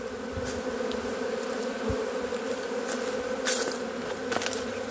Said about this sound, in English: I have got a swarm that's moving in over here to my equipment.